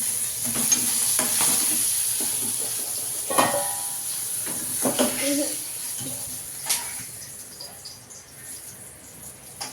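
Chopped onions frying in oil in a home kitchen make a continuous hiss with spoon stirs and clinks, and a voice talks faintly in the background.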